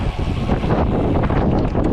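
Wind buffets steadily while cycling on a road bike along a long country road, a constant loud rushing roar with no breaks and no talking.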